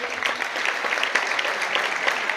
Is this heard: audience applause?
yes